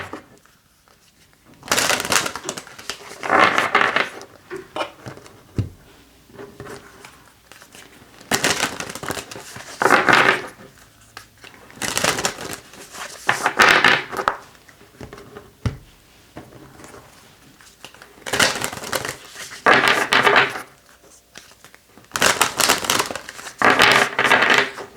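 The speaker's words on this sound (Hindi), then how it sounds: "हम आपकी कार्ड्स को शफल करेंगे।" Tarot cards shuffled in bursts, several riffling and crinkling passes separated by short pauses, close and fairly loud, with no talking.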